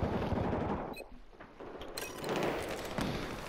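Enemy soldiers firing in a Battlefield 4 Conquest match: loud rapid gunfire at first, then sharp single cracks and booms amid sporadic bursts returning more distantly, no voices.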